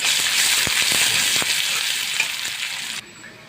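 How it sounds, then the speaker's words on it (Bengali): Chopped onion frying in refined oil in a pan makes a loud, continuous close sizzle with a few stirring taps before it cuts off abruptly near the end. "আমার পেঁয়াজ একটু ভাজা হয়েছে"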